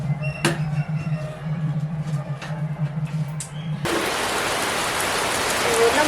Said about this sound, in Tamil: மழை பட்டையை கலக்குது ஒரே இருட்டாச்சு